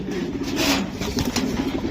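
Racing pigeons from club lofts coo close by in a short burst, a soft continuous rolling murmur with a brief rise midway, free of talk.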